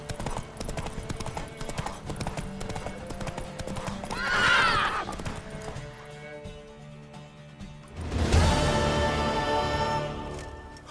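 Horse hooves clip-clop in a steady gallop in The Witcher 3 video game, joined by loud neighing and whinnying in two bursts, with game music and ambient sound beneath.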